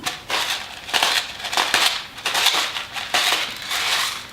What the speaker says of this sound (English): You're just gonna blend it on high until it all comes together as kind of like a very smooth paste